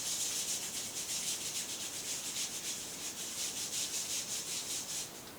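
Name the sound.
rubbing soles of feet with palms of hands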